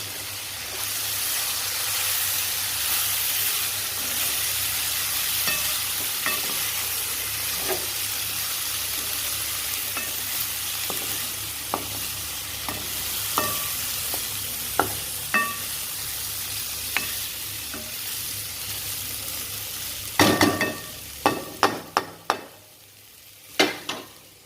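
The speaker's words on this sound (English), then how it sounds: "now you can see that the vegetables are cooking well" Vegetables for an Indian kurma fry in a pan with chilies, giving a steady broadband sizzle that carries through, while scattered clicks and scrapes of stirring grow sharper and more frequent toward the end.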